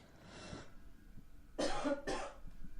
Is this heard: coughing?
yes